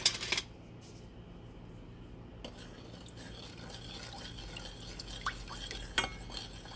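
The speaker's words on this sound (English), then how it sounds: "We're going to stir it." A spoon stirs sugar syrup in a pot on medium heat, a quiet swirling scrape with a few light clinks against the pot, alone without talk.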